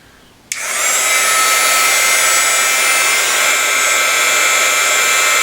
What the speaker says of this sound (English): The heat gun, once it gets hot, only takes about 5 seconds to heat up the flower.